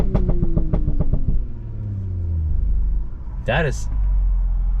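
Audi B9.5 S4 with a 034 Stage 1 tune revving in neutral, a falling engine drone giving way to a burst of loud exhaust burbles and bangs, close by, with a voice reacting over it.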